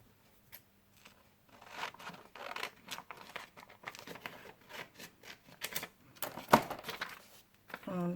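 Scissors cutting paper for a forest-themed planner, a series of faint, close snips and rustles in irregular bursts, with one sharper crisp cut near the end.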